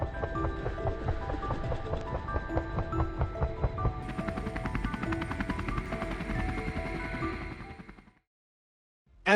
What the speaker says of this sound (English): the battle helicopter took to the skies, its spotlight cutting through the darkness